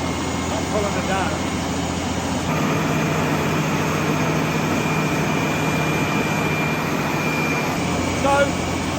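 A boosted 335-horsepower tractor engine with a worn, oil-leaking turbo runs hard under load on a PTO dynamometer, giving a loud, steady, unbroken roar with a high whine on top that shifts slightly partway through.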